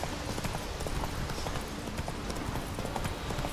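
Hooves of Roach the horse ridden through snow in The Witcher 3, a steady, fast clip-clop under a constant wash of noise.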